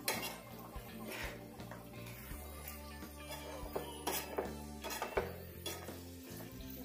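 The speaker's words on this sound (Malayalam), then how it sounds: "നന്നായിട്ടൊന്ന് മിക്സ് ചെയ്യാം." Chilli pork stirred in a pan with a spoon, giving repeated metallic scrapes and clinks over a soft sizzle, close up and fairly quiet.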